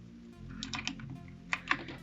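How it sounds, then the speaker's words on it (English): Several sharp, crisp clicks from blue switches on a DIERYA DK63W mechanical keyboard, tapped one at a time, close up, with irregular pauses between presses over a low steady hum. "we have that nice blue switch right there. Nice and clicky."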